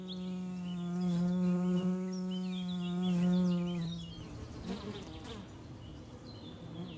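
A honey bee buzzes near flowers in a wild forest, a steady droning hum that swells and holds for about four seconds, then cuts off into faint rustling, with a few soft bird chirps around it.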